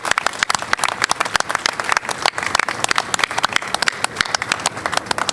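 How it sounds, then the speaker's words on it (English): Audience applause at a lifetime achievement award ceremony honoring Hank Wedaa, dense sustained clapping from a crowd, loud and close throughout. "So please give him a great big round of applause."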